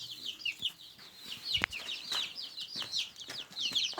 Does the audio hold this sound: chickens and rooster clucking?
yes